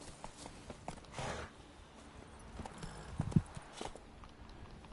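Roach the horse trotting in The Witcher 3, producing a run of distinct hoof clip-clops at close range with a brief snort or whinny among the steps.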